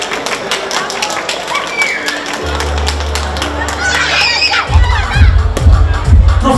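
A loud crowd at a festive family circumcision celebration cheers and shouts as champagne is opened, with children's cries and scattered claps. Heavy bass thumps and a low musical drone sit underneath, growing stronger toward the end.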